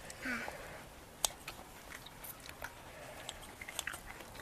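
Grilled squid being chewed up close, a series of soft crunchy bites and wet chewing clicks scattered irregularly over a quiet background.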